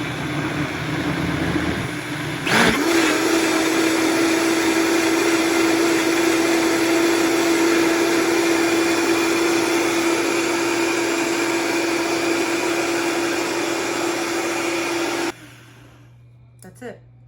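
A blender whirs loudly and steadily while making cold cucumber soup, starting with a brief rough burst before settling into a constant close whine, then cutting off abruptly near the end.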